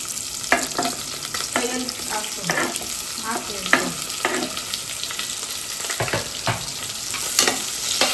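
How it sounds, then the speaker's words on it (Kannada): Onions fry in hot oil for tomato bath, a close, crackling sizzle broken by repeated scraping stirs of a spoon against the pan, fairly loud throughout with no talking. "ಈರುಳ್ಳಿ ಚೆನ್ನಾಗಿ ಫ್ರೈ ಆಗಬೇಕು"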